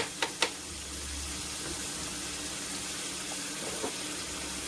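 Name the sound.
tap water running to wash rice for paella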